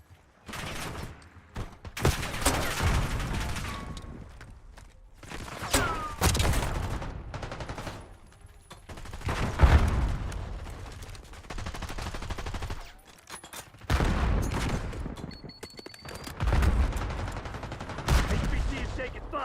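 Bursts of video game gunfire crackle in repeated loud volleys separated by short lulls, with radio-style voice callouts about a high-value target heard between the shots.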